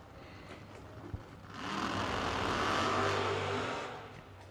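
Drag racing cars and dragsters at a torque-systems fall drag event, heard as one loud engine roar that swells in after a quiet stretch, holds steady at a distance and then fades, with no talk over it.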